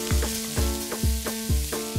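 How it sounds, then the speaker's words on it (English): Shrimp paste and onion fry in a pan with a close, steady sizzle, while regular low thumps sound about four times a second underneath. "I'm gonna go ahead and fry up this amazing shrimp paste."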